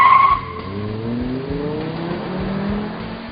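A 2007 Volvo C30 2.4i launches hard off the line with stability control off: a loud burst of tire squeal, then the engine's rising, steady drone as the car pulls away.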